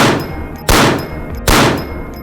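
Two sharp MP9 shots in a VR shooter game ring out about a second apart, each a loud crack with a metallic ringing tail fading away.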